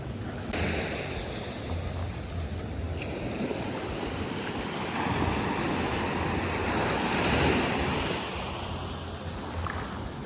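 Ocean surf breaking on a beach in Cancun, Mexico, a steady broad wash of waves that swells slightly toward the end, with wind buffeting the microphone throughout and no voices.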